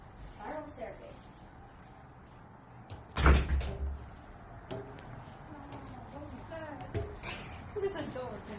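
A door inside the old Creole House opens or shuts with a single solid thud partway through, among footsteps and creaks while people talk quietly nearby.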